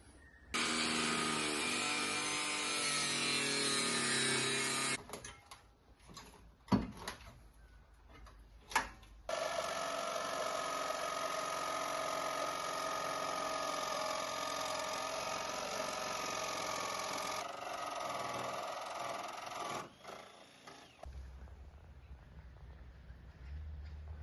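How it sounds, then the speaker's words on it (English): An angle grinder fitted with a 1mm cut-off disc cuts during a van build, for a gas storage box install, in two long, loud whining bursts separated by a short pause with a few clunks. "For the bits I can't access with the jigsaw, I'm going to be cutting it with the angle grinder."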